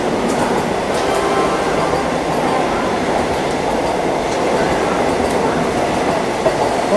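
A Vande Bharat Express train roars past a halted Baba Baidyanath Dham Express at Prayagraj, a loud, steady rumble of wheels and rushing air heard close by from the stopped train, with faint rail clatter throughout.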